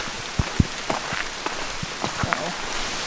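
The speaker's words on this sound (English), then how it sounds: "it started really raining while I was hanging out with Dad" Heavy rain pours steadily at a camp, a dense continuous hiss with scattered sharper drops striking nearby surfaces, heard alone with no talk.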